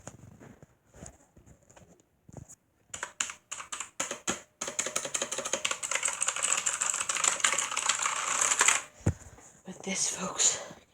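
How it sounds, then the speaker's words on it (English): Brisk clacky typing on a large mechanical computer keyboard, a few scattered key taps first, then a fast dense run of sharp clicks, close and crisp, briefly pausing before more keystrokes. "It's a very clacky keyboard."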